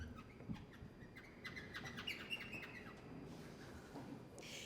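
Clarinet playing a robin's birdsong imitation within a contemporary piano concerto, heard as quick, bright chirping trills and short calls over a faint orchestral background, fairly soft throughout with no voices.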